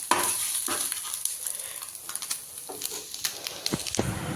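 An egg frying in oil in a pan at home, with a steady sizzle and scattered crackles and pops close by throughout, plus occasional scraping or stirring sounds.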